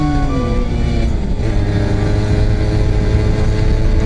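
Honda NS-1 two-stroke moped-class motorcycle on a mountain road, engine braking after a downshift, its loud buzzing engine note sliding down in pitch as revs fall, with steady wind noise throughout.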